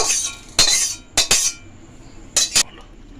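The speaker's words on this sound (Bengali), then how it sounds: "এবার এই ডালটা ধুয়ে নেব" Roasted moong dal being washed in a metal pot, heard as five or so sharp, loud bursts of clattering and splashing spaced across the clip with quiet gaps between.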